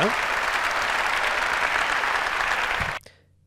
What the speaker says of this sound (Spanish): la gente lo aplaude